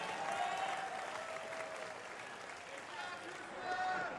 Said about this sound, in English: Round of applause representing the U.S.